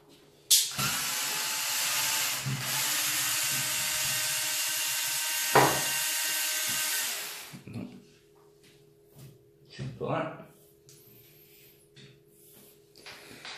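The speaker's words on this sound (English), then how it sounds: "when you're using power tools on screws, you need to be careful" A power tool whirs loudly for several seconds while driving screws into a Traxxas X-Maxx 8S RC truck bumper, winding down with a brief knock in between, then quieter clunks and handling noises follow.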